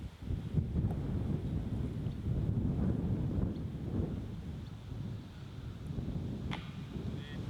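Wind gusting across an outdoor disc golf course during a Vic Tour final in Kingston City, a broad low roaring rumble that swells and eases throughout, buffeting close on the microphone, with a faint brief click near the end.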